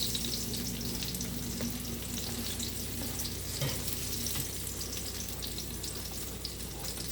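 Saltfish fritters sizzle and crackle in hot oil in a pan, a steady, dense frying hiss that continues evenly for the whole stretch with no talking.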